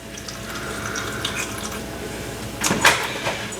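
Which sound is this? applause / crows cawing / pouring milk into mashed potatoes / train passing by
pouring milk into mashed potatoes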